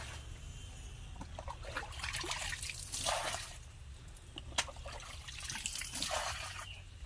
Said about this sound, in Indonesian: Air ini kita buang mas, airnya mas.